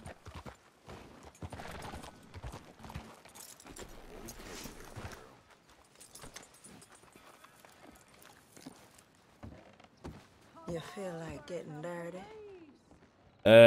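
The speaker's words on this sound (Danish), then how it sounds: "Det er ikke en flot hvid hest" Horse hooves clip-clop at a walking pace in the western video game Red Dead Redemption 2. The soft, scattered hoofbeats sit under people chatting, and the horse may whinny near the end.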